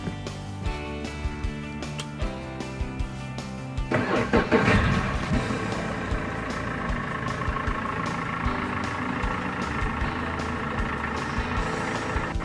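Outboard boat engine on a lift, running on treated fuel during winterizing, starts up about four seconds in and then holds a steady, fairly loud idle drone through the rest.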